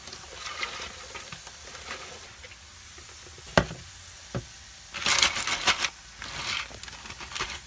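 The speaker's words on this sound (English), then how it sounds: "When I put my chips in the bowl, I like to toss them a little bit to help get some of that excess oil off" Freshly fried tortilla chips are tossed in a bowl, giving quiet, crisp rustling and crackling with a couple of sharp knocks and a louder flurry of shaking near the end.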